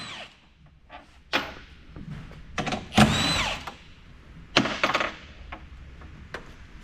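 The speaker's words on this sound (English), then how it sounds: "Let's get some bolts off and pull the tub." Cordless power tool driving Torx bolts out of the trunk tub on a Ford Lightning electric pickup, in several short whirring bursts with a longer grinding run in the middle, close by in a quiet garage.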